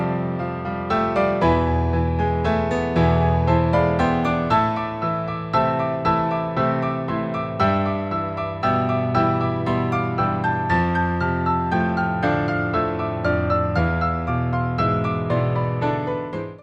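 Dense, agitated orchestral music with pulsing, restless strings and dissonant chords, building tension without pause.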